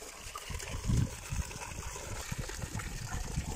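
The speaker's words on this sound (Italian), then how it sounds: "Il rumore dell'acqua è sempre bello." A small stream near Sanguineto trickles and gurgles continuously, close and moderately loud, with a slight surge partway through and no voices over it.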